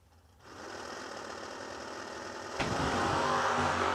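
Drag racing cars including a red Chevy Camaro staged at the starting line at Kil-Kare, a rough idling engine rising after a moment, then a sharper, louder rev surging near the end.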